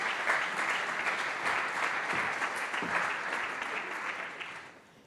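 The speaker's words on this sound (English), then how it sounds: "Under your applause." An audience at an academic talk on stress management in team sports gives steady, close applause that keeps an even level and then tapers off at the end.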